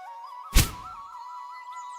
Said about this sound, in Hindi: जल्दी से अपने कुछ फल नीचे गिरा देता है।